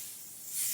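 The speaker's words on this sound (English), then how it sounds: "I'm gonna just spray a little bit of my spray on there" Hair spray misted briefly onto a glueless closure wig, a soft steady hiss that swells louder toward the end of the short burst, close and with no talking.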